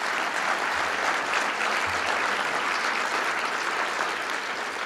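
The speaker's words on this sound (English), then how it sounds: "So can we give them a round of applause?" A large audience at Prince George's County's State of the County address breaks into sustained, dense applause, loud and steady from start to finish with no voices over it.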